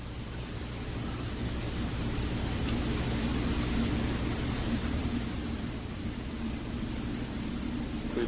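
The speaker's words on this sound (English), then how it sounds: "We believe that's the sound of a jet going by." A jet aircraft passes overhead at night near an old schoolhouse by the sea, heard as a faint, steady, broad rushing hiss that swells gently toward the middle and eases off, with no voices.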